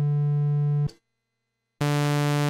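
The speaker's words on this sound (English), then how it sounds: "triangle wave," A modular synthesizer oscillator sounds a steady low triangle-wave tone that stops abruptly; after a brief silence, a brighter, buzzier waveform takes over, both loud and without any talking.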